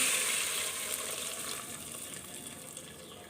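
Strained water pours steadily into a pan of coconut milk rice, with a continuous splashing gush that gradually settles, close by and fairly loud.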